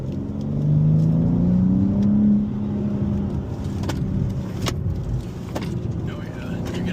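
A 2027 BMW M3 in Fire Orange accelerates hard, its engine note rising in a rumbling pitch sweep and then settling into a steady roar from inside the cabin, with occasional clicks and bumps and people talking over it.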